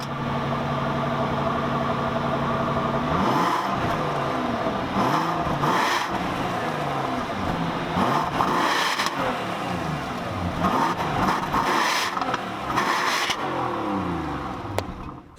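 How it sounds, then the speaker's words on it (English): A 2017 Bentley Flying Spur W12 S with its 6-liter W12 engine revs repeatedly, loud and close, the engine surging and falling back in a run of blips over a steady rumbling idle. "Now let's hear how this 6-liter W12 sounds."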